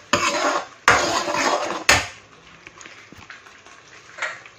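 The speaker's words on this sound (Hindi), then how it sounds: "अब इसको हम भूनने देते हैं थोड़ी।" Puree gravy with coriander frying in a pan, with a broad sizzle and clattering bursts from the pan and spoon at the start, then a softer, quieter hiss and occasional clinks.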